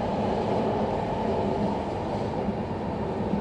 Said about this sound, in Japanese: この電車は東北新幹線やまびこ号仙台行きです。